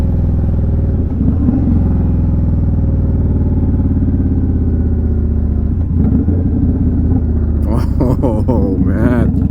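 An Indian Scout Bobber motorcycle engine drones steadily at close range while riding, its aftermarket exhaust rumbling and burbling, then crackling and popping toward the end as the throttle changes without rev matching.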